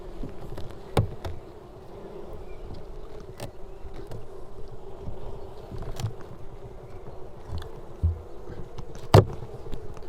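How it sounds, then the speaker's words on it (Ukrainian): Continuous drone of Carniolan honeybees humming nearby in an open hive, interrupted by a few sharp clicks and taps, with no one speaking. "В кожній вулочці е, бжола сидить, кожна вуличка засижена бжолою."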